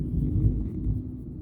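Low, steady rumble of thunder during a rainstorm, heard indoors as a muffled continuous roll that swells slightly and fades, fairly quiet and alone.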